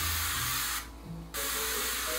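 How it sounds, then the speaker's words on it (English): Wig cleansing spray hissing from a pump bottle into the inside of a wig, a steady close spray that pauses briefly mid-clip and then resumes. "So we're just gonna spray this uniformly and evenly inside of the wig."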